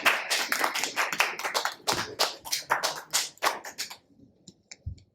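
Claps ring out in a short burst for about four seconds, distinct and close, then stop, leaving only faint scattered noises.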